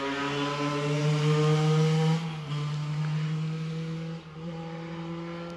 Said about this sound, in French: il y a une moto qui passe